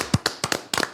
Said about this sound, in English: Everybody clap it up for Niddy, y'all.